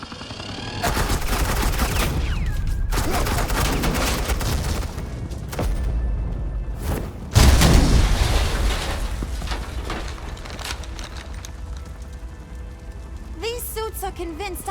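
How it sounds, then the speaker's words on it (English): Suppressing gunfire in the video game Batman: The Enemy Within, heard as dense, sustained bursts of shots with a heavy impact midway, mixed with game voices and fading toward the end. "suppressing fire"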